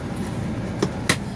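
A car engine runs steadily inside a moving car on a highway after about 30 km, a low continuous hum with two brief sharp clicks or knocks near the end.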